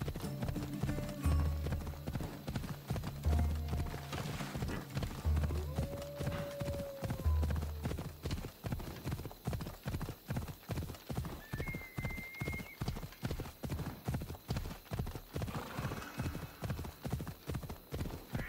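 A horse's hooves clip-clop in a fast, steady rhythm throughout gameplay of Assassin's Creed Odyssey, with a few whinnies and soft background tones. The ridden horse is glitching.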